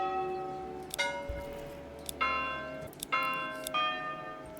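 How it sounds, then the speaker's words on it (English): A wooden church's bell tolls in the medieval town-building game Manor Lords, struck about five times at a slow, roughly one-second pace, each clear metallic strike ringing out and decaying, with nothing else heard. "you could change the church bell sound"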